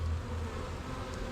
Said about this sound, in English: See all these bees? They're all there, bums in the air, heads in, fanning.